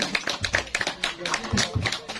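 An audience claps for a traditional gendang beleq drum performance at a Sasak village in Lombok, brief scattered hand claps mixed with voices talking over them.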